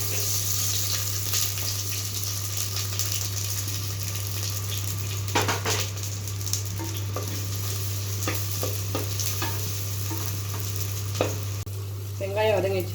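Onions frying in sesame oil in a clay pot, a steady close sizzle with occasional stirring scrapes and clicks, accompanied by a constant low hum, no talking.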